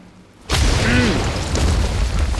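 An explosive barrel detonates in the game Flintlock: The Siege of Dawn, a sudden loud boom after a quiet lead-in, followed by a sustained rumbling roar and debris that fills the rest of the moment.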